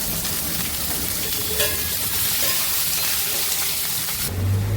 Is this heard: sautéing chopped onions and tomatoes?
yes